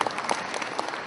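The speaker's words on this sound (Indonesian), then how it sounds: "tepuk tangan untuk Pak." A seminar audience claps together, a short burst of dense, steady applause heard alone.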